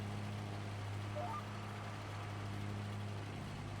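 A tractor engine drones steadily under load while climbing a hill in the farming game Farming Simulator 22, a low constant hum with a faint rising tone partway through.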